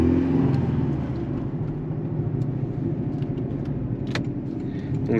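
A Porsche 718 Cayman with 300 horsepower runs with its exhaust valves open, giving a steady, deep engine rumble close by that holds even throughout without revving.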